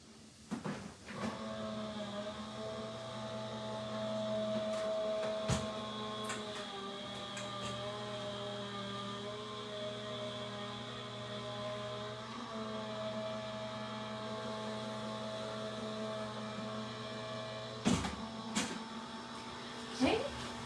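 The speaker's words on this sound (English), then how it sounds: "As I run these through the die cutting machine." A die cutting machine runs steadily with a mechanical hum and whine as paper flower pieces pass through, broken by a few sharp clunks and knocks. Faint voices are present.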